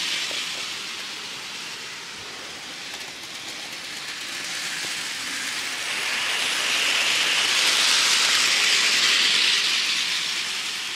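A steady rushing, hissing rumble of a toy train pulling goods wagons along track, growing louder toward the end, with no voices.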